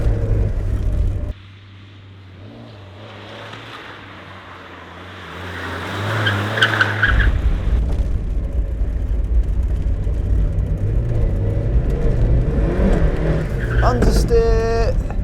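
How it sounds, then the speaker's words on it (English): A stock Mazda MX-5 Miata NA revs and drifts, its engine note rising and falling loudly with tire noise. A brief squeal comes near the end. "Cue awesome drifting montage."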